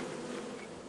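Insect buzzing from bees in the video game Lethal Company, a dense continuous drone lasting under a second with no talk.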